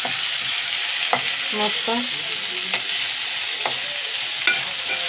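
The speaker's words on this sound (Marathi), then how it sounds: "टमाटर सुद्धा चांगले तेलावर छान परतून घेऊ." Tomatoes sautéing in hot oil with a secret masala and onion, giving a steady, close sizzle broken by several sharp stirring scrapes and taps; a voice briefly speaks over it.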